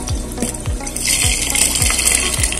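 A heavy-duty used oil stove burner with water mixed into its oil, fitted with a new 2 3/8-inch nozzle, roars steadily with a watery crackling sputter and regular low pops about every half second, loud and close.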